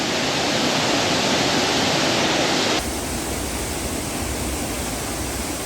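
Water pours steadily in a continuous broadband rush from the small Sam Rong Kiat waterfall in Thailand, heard close up, with no voices.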